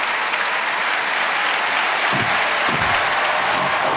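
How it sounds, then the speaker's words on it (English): A stadium crowd at the 2010 Diamond League meet in Lausanne claps and cheers steadily behind a French athlete, a dense wash of applause with a couple of low thuds partway through. "The crowd right behind the little Frenchman."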